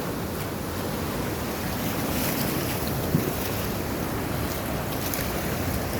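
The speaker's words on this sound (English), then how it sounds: "it's splashing up over these rocks." A flooded river at a whitewater park running at high flow, with a steady roar of rushing water splashing over rocks, loud and continuous, mixed with wind buffeting the microphone.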